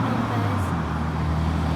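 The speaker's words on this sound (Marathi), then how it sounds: "समोरून खूप सुंदर गाडी येते," A car moves along a street in a UK town, a steady close engine and tyre rumble with traffic noise in the background.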